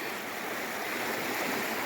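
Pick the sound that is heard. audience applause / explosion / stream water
stream water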